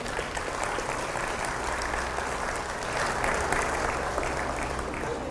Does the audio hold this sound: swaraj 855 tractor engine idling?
no